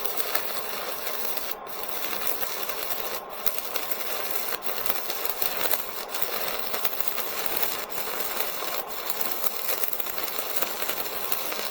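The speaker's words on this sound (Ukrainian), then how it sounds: "Зварюю з опиранням маскою." Stick-electrode arc welding with Ukrainian electrodes gives a steady, close crackling hiss broken by a few sharp pops and brief gaps, with no voices.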